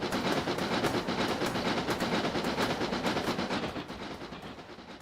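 A Talyllyn Railway train runs along the narrow-gauge line, a loud, close, rhythmic clatter of wheels and rattling carriages that beats steadily and eases slightly toward the end.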